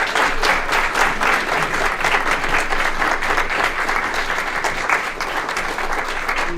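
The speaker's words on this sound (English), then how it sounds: "let's give her a round of applause" A room full of people claps steadily for a guest named Martha at an adult education session, a dense, even roar of applause holding at full strength for the whole stretch with no voices over it.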